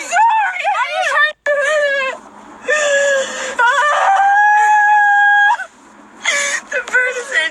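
A chicken inside a car gives high, squawking calls and clucks, loud and close, broken by brief pauses, with excited voices talking over it throughout.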